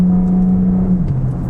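A 2025 Audi S5 Prestige pulls away at partial throttle, a loud, smooth engine drone heard from inside that holds steady, then dips slightly as the pitch shifts near the end.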